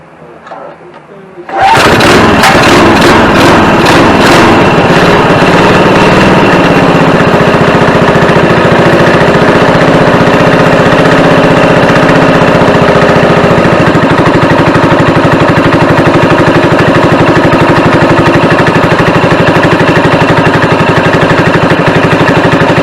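A Honda XR80R motorcycle fitted with a swapped 196cc engine starts after a moment of quiet, then runs loudly and steadily close by for the rest of the clip.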